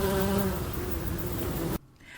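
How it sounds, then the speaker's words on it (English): A bee buzzing close by, a steady droning hum with a wavering pitch that cuts off abruptly near the end, leaving faint background quiet. "Amu means bee in the Mi'kmaq language."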